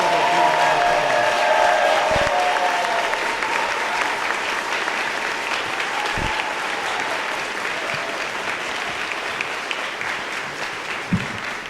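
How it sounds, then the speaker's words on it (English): An audience at a school scholars reception gives a sustained round of applause for an honoree, dense even clapping from many hands lasting the whole stretch with a few louder thumps. "I just want to take that time to give a big round of applause for Miss Miriam Allaby"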